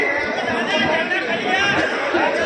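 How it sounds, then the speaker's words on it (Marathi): Dense crowd chatter fills a political closing rally in Sangamner, many voices murmuring at once in a steady, close wash of noise with no single speaker standing out. "आज सांगता सभेला झालेली ही गर्दी"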